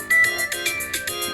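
A phone ringtone plays a repeating electronic melody of bright, regular tonal pulses. It is fairly loud and close, with no talk over it.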